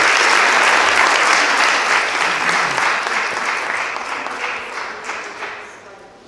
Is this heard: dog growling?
no